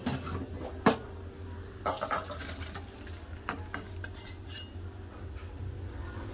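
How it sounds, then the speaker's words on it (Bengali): Mustard fish curry is tipped out of a pan, heard as sparse metallic clinks and scrapes of a spoon against the vessel, quiet and close, with one sharper knock near the start and no talk. "এবার তরকারি ঢেলে নেব"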